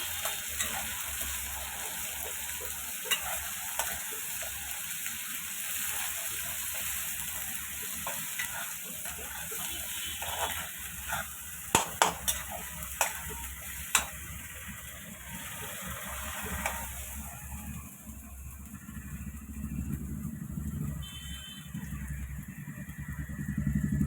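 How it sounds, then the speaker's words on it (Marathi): Green chutney frying in a pan while being stirred, a continuous close sizzle with scraping spoon strokes and a few sharp clinks around the middle, a low rumble underneath. "बघा इथे मी तळून घेत आहे हिरवी चटणी"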